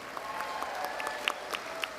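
Graduation audience applauding at a university commencement ceremony, a soft, distant wash of clapping with a few sharper claps standing out, steady for about two seconds.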